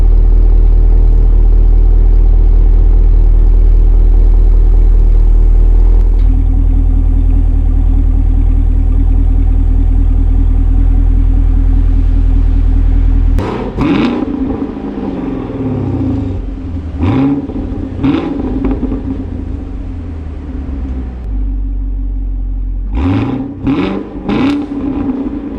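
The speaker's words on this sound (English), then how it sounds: "it comes standard with the dual mode exhaust, so I'll kind of show you guys a clip" A Camaro 1LE with dual mode exhaust idles loudly up close, then blips through several sharp revs in quick succession, each rising and falling back to a burbling idle.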